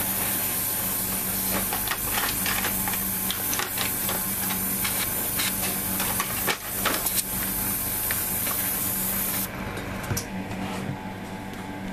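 Airbrush spraying Mr. Color 46 Clear gloss coat onto a Hasegawa 1:72 F-4EJ Phantom II JASDF plastic model kit, a steady close airy hiss running throughout with brief bursts and a slight drop near the end.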